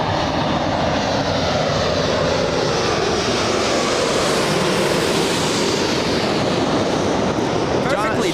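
An American Airlines Dreamliner departing Los Angeles International Airport for Haneda gives a loud, continuous jet roar that holds steady throughout.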